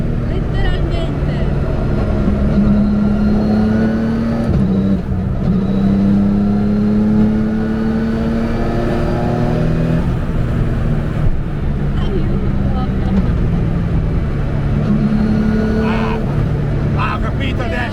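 A race car engine revs loudly from inside the cabin, its pitch climbing steadily through each gear and dropping sharply at every quick shift in a continuous drone.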